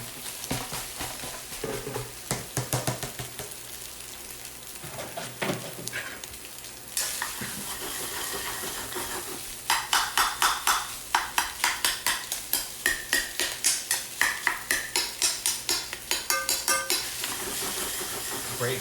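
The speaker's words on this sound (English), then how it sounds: "break up all that awesome stale rice" Stale rice stirred and broken up in a frying pan, a steady sizzle under close utensil scrapes and clinks that turn into a fast, regular run of knocking strokes against the pan.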